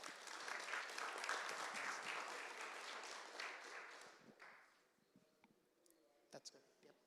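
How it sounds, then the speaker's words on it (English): A council meeting audience gives the parents a round of applause, dense clapping for about four seconds that thins out and fades, followed by scattered claps and faint background sounds. "So we give our parents a round of applause as well."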